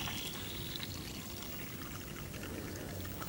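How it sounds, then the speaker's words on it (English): Wet plaster mix pours steadily into a rubber glove, a continuous close, soft watery rush with a faint trickling edge that holds at an even level throughout, with no talking. "There goes the plaster mix into the glove."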